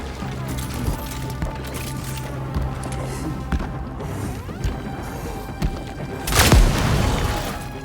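A loud explosion booms near the end of a stretch of action in the video game Cronos: The New Dawn, following scattered thuds and clanks from the game.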